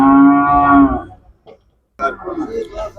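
A young calf at a village cattle market in 2024 gives one loud, close moo lasting about a second, followed by a pause and then people talking nearby.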